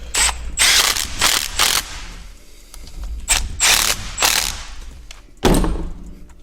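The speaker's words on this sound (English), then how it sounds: "you can use these bolts, they thread right in these holes, and we should be able to push this cover off" A ratchet wrench turning bolts threaded into the differential cover of an Audi TT to push it off: repeated bursts of fast mechanical clicking, each about a second long, with short pauses between them, close and loud.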